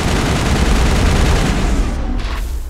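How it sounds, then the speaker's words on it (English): Explosive-round shotgun fire in the video game Mass Effect: a dense, continuous barrage of loud, overlapping blasts and booms that fills the whole stretch with no pauses. "I've got two explosive round shotgun users."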